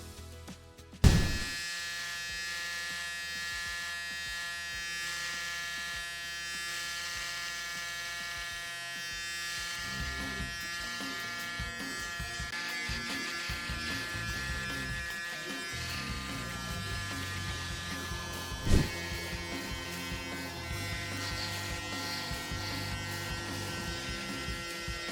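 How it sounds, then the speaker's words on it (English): Braun Series 9 Pro electric shaver with built-in trimmer cutting a beard, a close steady motor buzz running the whole time with a sharp click at the start and another jolt partway through. "This shaver comes with inbuilt trimmer."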